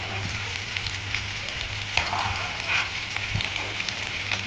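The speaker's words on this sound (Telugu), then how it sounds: "మీడియం ఫ్లేమ్లో పెట్టుకుని ఇలా వేయించుకోవాలండి." Ivy gourd frying in a pan on medium flame with curry leaves added, giving a steady crackling sizzle with scattered pops throughout.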